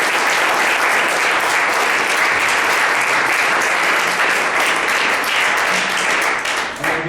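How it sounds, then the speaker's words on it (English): Sustained, dense applause from a seminar audience at the close of the event, many hands clapping steadily at a constant loud level before tapering slightly at the very end. "if you'll join me in a round of applause"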